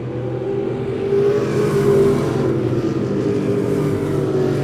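Race cars lapping the oval at Monett Motor Speedway, engines droning loud and steady as they roar past together, the pitch rising and falling with a brief swell.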